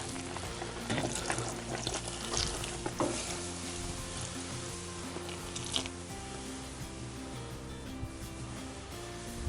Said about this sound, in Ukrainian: Тепер будемо заливати пиво.